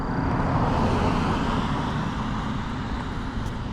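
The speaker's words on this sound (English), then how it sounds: "My bad, that car was loud." A loud car passes close by, a steady broadband roadway rush that fills the whole moment and eases only slightly toward the end, with no voices over it.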